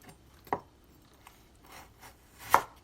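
A knife chops through boiled Korean pork belly in two separate firm cuts about two seconds apart, close and fairly quiet, with near silence between them.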